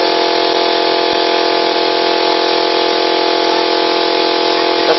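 A car engine runs steadily during a vacuum engine flush, a loud, even mechanical hum with strong tonal whine and no change in pitch, heard alone without talk.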